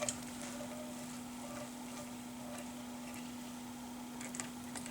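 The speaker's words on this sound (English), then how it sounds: "And then just let's stir it up a little bit." Beef stew sauce with Maggi seasoning being stirred in a pan, soft scraping and faint sizzling at low level, with a steady hum beneath and no talking.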